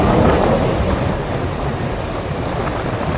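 Rough sea churns along the Jaffna coast with a broad, roaring rush of surf, strongest at the start and then easing into a steady wash, loud and close, buffeted by wind noise.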